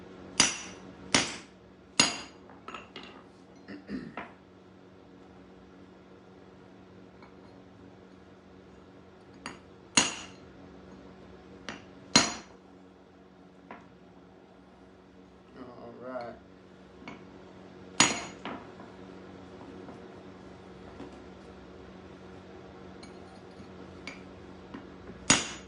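A hammer strikes a chisel to crack open a geode, sharp metallic blows landing in irregular bursts of two or three, some loud and ringing, with quieter taps and scraping between them and a steady background hum.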